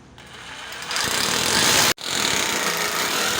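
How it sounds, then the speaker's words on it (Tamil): Loud, close electric drill whirring steadily into a wall, cutting out briefly then starting again at full power, while drilling holes to mount a water heater. "மார்க் பண்ண இடத்துல ட்ரில்லிங் மிஷின் வச்சுக்கோங்க"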